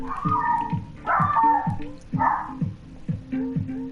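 A dog barks and yips repeatedly in a room, a quick run of sharp, close barks with a whiny edge and short gaps between them.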